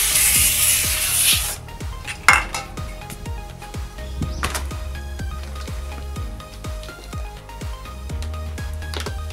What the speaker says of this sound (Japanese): タイヤが滑りやすくなるようにパーツクリーナーを一周スプレーします。